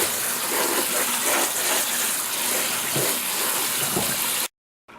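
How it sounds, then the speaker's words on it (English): Cold water runs steadily from a kitchen sink tap, a continuous close rushing splash that holds for about four and a half seconds and then cuts off abruptly. "Notice I have water running in the sink."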